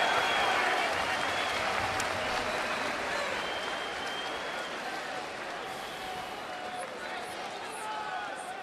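Large boxing arena crowd in Brooklyn roaring and cheering steadily throughout, a dense continuous wall of voices and applause, with a ringside commentator talking over it.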